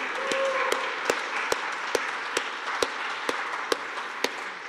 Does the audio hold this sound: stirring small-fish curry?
no